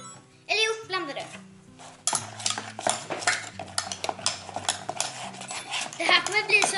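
Glitter slime is mixed by hand in a bowl, with wet stirring, squelching and occasional clinks while children talk nearby.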